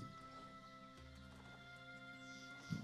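A horse ridden in a video game gives a soft, steady clip-clop of hoofbeats, faint beneath a constant hum of game music tones with no talking.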